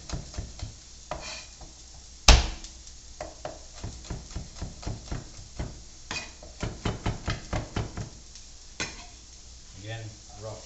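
Garlic sizzles in a hot pan with a soft, continuous hiss, punctuated by a loud clank and a run of quick, rhythmic taps and scrapes as it is stirred.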